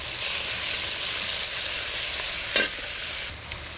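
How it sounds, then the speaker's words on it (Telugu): Green chillies crackle and sizzle steadily in hot oil, a dense continuous frying hiss with a brief stir clatter near the end, no voices. "ఇప్పుడు మనకి పచ్చిమిరపకాయలు కూడా మంచిగా ఎగుతున్నాయి కదా"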